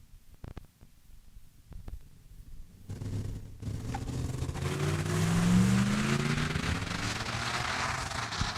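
A drag race car at Saskatchewan International Raceway makes a pass down the eighth mile, its engine rising from a distant rumble into a sustained roaring run that builds and holds, heard from a distance with no talk.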